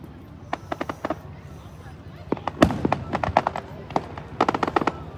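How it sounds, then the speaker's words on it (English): Fireworks bursting at a Fourth of July celebration, a run of sharp crackling pops and bangs in quick clusters, fairly close and loud, with people talking and cheering underneath. "More of the fireworks going on, boys."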